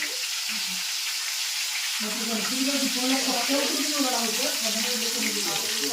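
Cabbage and onion bhaji frying in hot oil, a steady broadband sizzle and bubbling that thickens and grows busier after the first couple of seconds, close and continuous with no talk.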